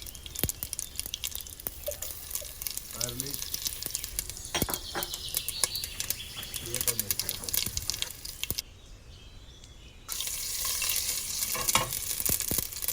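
Mustard seed, asafoetida powder and garlic fry in hot oil for sambar, with a continuous crackling sizzle, spoon scrapes and stirring close by, a short quieter gap, then the sizzle returns.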